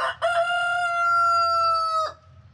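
A rooster held in an animal carry cage crows once, a loud, close, sustained cock-a-doodle-doo lasting about two seconds before breaking off into quiet.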